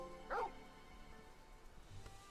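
A dog in Final Fantasy 16 lets out a single short bark near the start, faint and quick, followed by quiet game ambience.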